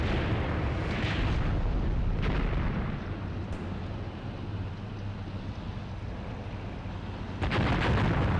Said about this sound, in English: These bastards are calling fire on me.